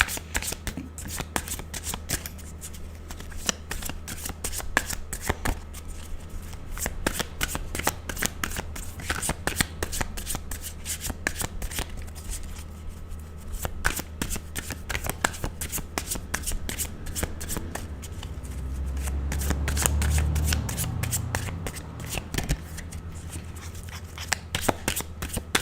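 Tarot cards are shuffled continuously up close, a steady run of crisp riffling flicks and slaps lasting the whole stretch, with only faint low background hum.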